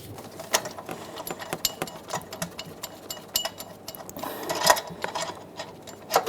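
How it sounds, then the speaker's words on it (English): A 14 mm tool loosens the center bolt on a smooth idler pulley of a 2007-2013 Acura MDX engine, giving faint, quick ratcheting clicks with scattered metallic ticks and a louder click burst near the end. "Remove the center bolt using a 14 millimeter."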